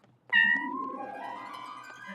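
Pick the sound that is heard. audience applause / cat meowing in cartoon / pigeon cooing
cat meowing in cartoon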